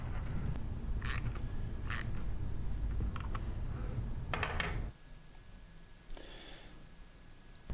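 Tightening the eight air-end bolts on a Sandpiper S05, S07 or S10 pump, heard as a series of short metallic ratcheting clicks over steady background noise, close and moderately quiet, with no talking.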